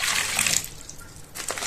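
Lukewarm water, about 200 grams, poured into a bowl as a first step of tahini cinnamon roll dough: a steady close trickle and splash for over half a second, then fading to a quieter dribble.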